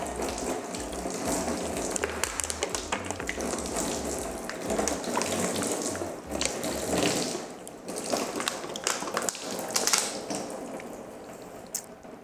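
Water poured from a plastic water bottle splashes and trickles over the body of a Honda Civic during a wash, a steady broadband gush lasting several seconds with small surges, close and fairly loud, with no talk over it.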